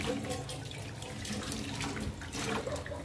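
Tap water runs steadily into an aluminium pan at a kitchen sink, a continuous close hiss and splatter with no pauses.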